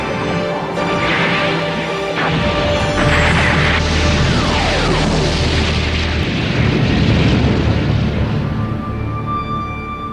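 Bombs exploding in a Transformers cartoon, a long roaring blast with rumbling booms, crashes and debris that stays loud throughout.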